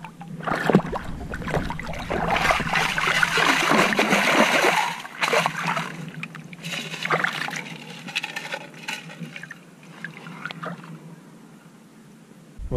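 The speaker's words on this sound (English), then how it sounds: "So let's get to swimming." Water splashes and sloshes as a swimmer moves through a lake, loud and close at first, then quieter, with wind and scattered knocks.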